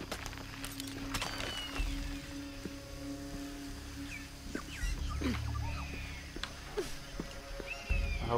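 Scattered chirps and sweeping calls from a bird in Shadow of the Tomb Raider ring out intermittently over a continuous ambient game soundscape, some calls sharp and near, others fainter.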